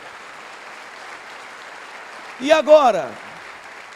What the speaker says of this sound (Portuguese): dá um aplauso ao Senhor Jesus bem forte